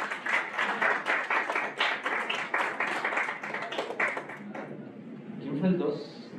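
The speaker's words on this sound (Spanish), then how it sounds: "pues, ok, fuerte aplauso." A group at a university agroecology youth gathering breaks into a short burst of clapping, with rhythmic claps mixed with voices before the applause fades under continuing talk.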